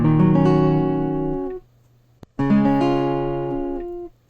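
Open strings on an acoustic guitar tuned a half step down ring out in two strummed bursts, each sustaining and decaying, with a short gap and a faint knock between them.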